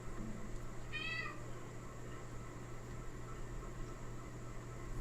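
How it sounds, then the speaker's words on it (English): A house cat named Clark lets out a single short meow, somewhat distant and soft, against a steady hum of background noise, with no one talking. "I don't know if you can hear my cat, Clark."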